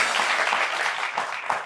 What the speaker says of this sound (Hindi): तालियां बनती है भाई